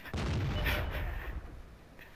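Artillery fire in World of Tanks, a single heavy boom close up with a sharp crack, then a rumbling tail that fades out.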